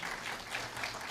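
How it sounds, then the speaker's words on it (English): Steady applause from a graduation audience, dense continuous clapping throughout the brief moment. "I want a round of applause for Andre."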